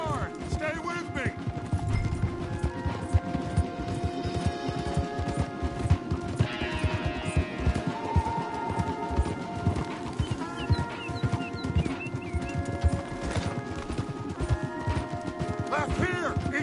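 Galloping horse hooves pound steadily in a Red Dead Redemption 2 game scene, with music and other action noise layered over the rhythmic clip-clop.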